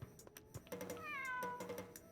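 Cat meowing in the Suikoden V video game, a single rising and falling meow in the middle, set against soft rhythmic game sounds and tapping.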